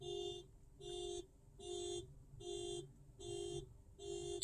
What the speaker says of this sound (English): And now somebody's car alarm is going off